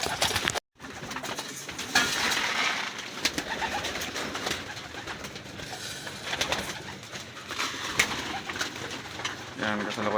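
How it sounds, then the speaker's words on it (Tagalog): Racing pigeons coo repeatedly at feeding time, soft throaty calls overlapping near and far amid rustling, with someone talking over them throughout. "kasalukuyan tayo nagpapakain mga kalapatid oh"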